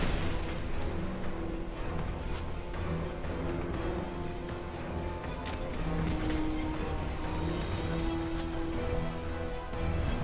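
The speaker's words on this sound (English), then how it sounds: "It is really cool to see these guys dash through gunfire." Gunfire and heavy booming blasts from the video game Phantom Brigade, a dense, continuous barrage of rumbling bursts and pops with no pauses.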